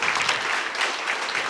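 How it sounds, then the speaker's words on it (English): Audience applause for a deputy minister of small business development coming to the podium at an indoor event, a dense, steady clapping from a room of people with no voices over it. "let's give our Honorable Deputy Minister a round of applause"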